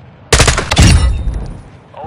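Military video game firefight with a sudden loud burst of automatic gunfire and explosions that starts abruptly, then rumbles and decays, with a voice talking over part of it.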